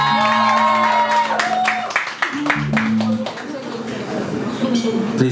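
An audience claps and cheers for the drummer during a Friday-night live club show by a band. The applause is steady and fairly close, mixed with ringing instrument tones.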